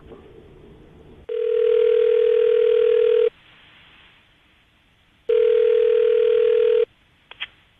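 Telephone ringback tone on an outgoing call to a radio show guest, two long steady tone bursts separated by silence, clear and close, with a short click at the end.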